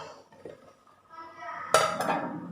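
Metal lid lifted off a cooking pot of sardine fish curry made with green mango, giving a sharp clink and a brief clatter after quiet kitchen sounds.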